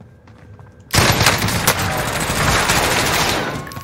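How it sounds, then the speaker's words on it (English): Rapid gunfire from a gunfight in a video game, erupting suddenly after a quiet moment into sustained, dense automatic bursts and shots that stay loud and continuous to the end. "There's a whole gunfight going on in there."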